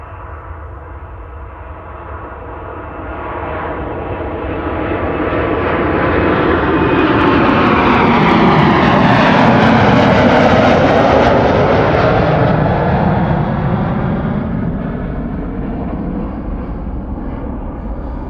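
Delta Airlines Airbus A330-300 jet passing close by at Amsterdam Schiphol Airport, a loud roaring engine drone that builds to a peak and then slowly fades, with a sweeping shift in pitch and no talking.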